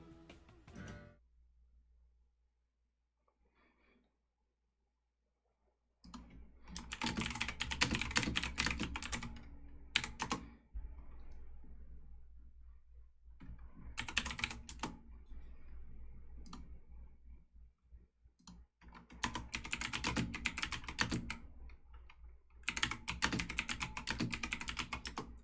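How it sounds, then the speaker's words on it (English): Rapid clattering keystrokes on a computer keyboard come in several dense bursts separated by pauses, close and fairly loud, with brief quiet gaps and no talk over them. "I'm glad you can hear my typing"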